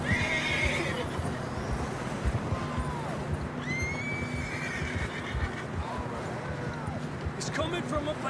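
Horses in the game Red Dead Redemption 2 whinny several times over steady hoofbeats and outdoor ambience, with neighs recurring throughout and some speech mixed in.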